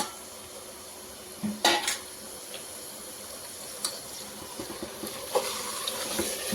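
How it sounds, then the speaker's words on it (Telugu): Washed mutton, about 750 grams, tipped into a pan of masala for a home-style mutton curry, giving a few clattering knocks and a soft splat, then scattered small clinks of utensil against cookware, fairly close and not loud, with no talking. "ఇప్పుడు మనం కడిగి పెట్టుకున్న మటన్ని దీంట్లో వేసేసుకుందాం"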